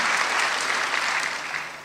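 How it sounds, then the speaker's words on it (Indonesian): A church congregation at a sermon gives loud, dense, steady applause throughout the short moment, with no talking. "tepuk tangan buat Tuhan"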